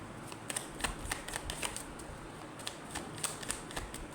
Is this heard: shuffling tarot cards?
yes